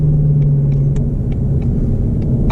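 2020 Shelby GT350 with a 526-horsepower high-revving engine under acceleration, a deep, loud, steady rumble heard from inside the cabin, with a droning low note and faint ticks and clicks over it.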